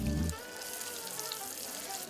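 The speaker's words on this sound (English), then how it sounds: "we're frying drinks in a pan. Boiling this beer." Beer frying in a pan in the video game Arctic Eggs, a faint continuous sizzle and hiss that follows a brief louder burst at the start.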